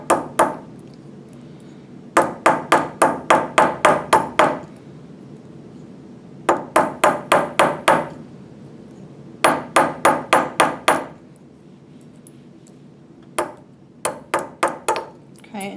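A hammer hits a rivet head in quick bursts of five to seven bright, ringing metallic taps, close up. Each burst is followed by a short pause, and the pattern repeats several times.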